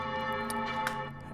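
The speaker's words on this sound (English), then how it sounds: "church bells are historically rung on the hour" Church bell rung far away, a ringing, echoing metallic tone with long sustained overtones and a few faint strikes, lingering as it decays, heard alone.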